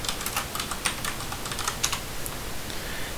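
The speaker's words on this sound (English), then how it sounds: "So if I type LFS into Google, or Linux from scratch," Rapid typing on a computer keyboard, a close, steady run of light key clicks with a few sharper taps, heard alone with no voices.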